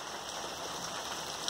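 Heavy rain pouring outdoors, a dense, even hiss of falling drops that holds steady and loud throughout with no voices.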